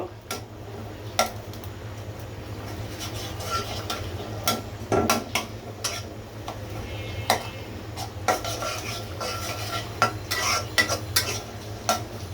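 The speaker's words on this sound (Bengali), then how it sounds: "এখন আবারও তেল পেঁয়াজ রসুন দিয়ে ডালটা বাগার দিয়ে নিব।" Dal tempered with oil, onion and garlic in a pan, a steady sizzle under repeated stirring and utensil scrapes, with sharp metallic clinks at intervals and a low steady hum throughout.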